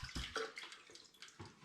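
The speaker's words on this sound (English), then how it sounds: "I'm just going to add another couple of litres of water into these" Water poured from a container into a pot of hops for home-brewed apple, hops and sumac wine, heard as short uneven splashing bursts and gurgles, close and fairly quiet.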